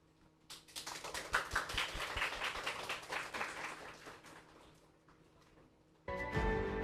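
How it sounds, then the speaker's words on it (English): Audience at a university GMBA graduation ceremony applauding graduate students, a dense patter of clapping swelling then fading over several seconds before a louder burst at the end. "Please give them a big round of applause."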